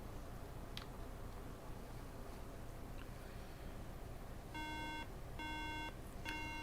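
A MacBook signalling a RAM fault gives short, clean electronic beeps in a regular pattern near the end, faint and close against a steady background hiss, with no voices.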